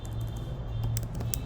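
Sparse keystrokes on a computer keyboard while entering MySQL commands, a few light clicks over a steady low hum.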